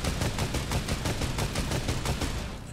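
Rapid, continuous gunfire in the Fortnite video game (Chapter 1 Season 7), a loud dense stream of shots with no break and no talk.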